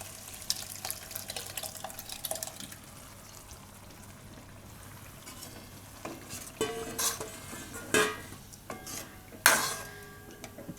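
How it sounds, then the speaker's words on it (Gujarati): Corn and drumstick curry cooks in a pot, a soft bubbling hiss under scattered clinks and stirring scrapes, with a few louder utensil knocks near the end. "થોડીક વાર આને ઉકળવા દઈએ અને આપણે થોડીક વાર પકાવી લઈશું"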